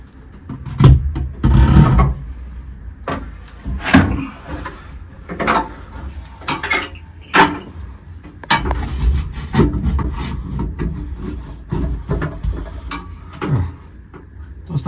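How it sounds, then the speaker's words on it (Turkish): Screws being driven to mount a combi boiler flue pipe, heard as a run of close, sharp scraping and knocking bursts with rasping friction, loud and irregular, with no talk. "Şimdi şu iki tane vida alacağız. Bu bacayı montaj edeceğiz buraya dostlar."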